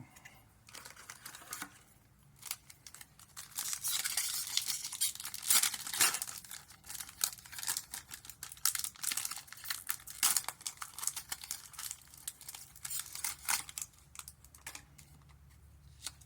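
Ixalan prerelease card booster pack wrapper being torn open and crinkled, a busy run of close, crackly rustling and tearing bursts with short pauses between.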